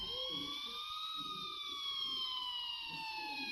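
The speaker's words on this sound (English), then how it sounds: "I finally heard sirens in the distance" A siren wails steadily in the distance, its pitch slowly rising and falling, over low rumbling background noise.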